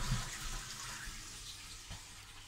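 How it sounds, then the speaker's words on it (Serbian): Water runs steadily from a tap in a train toilet, a soft continuous hiss with no talk over it. "I tu izlazi voda."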